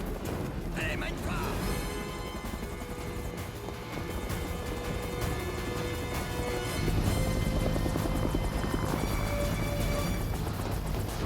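A helicopter flying over a rooftop, its steady rotor drone and engine whine filling the scene continuously, close and loud, growing heavier partway through with a thick, busy background underneath.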